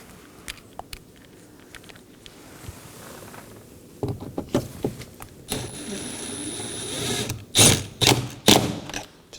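Ratchet driving the last 7mm bolt near the handle on a 2018-2024 Chevrolet Equinox side mirror, heard as a few close, sharp mechanical clicks and clatters that grow busier toward the end, with no talking.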